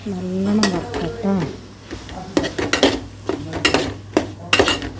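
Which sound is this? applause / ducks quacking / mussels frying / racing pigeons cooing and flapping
mussels frying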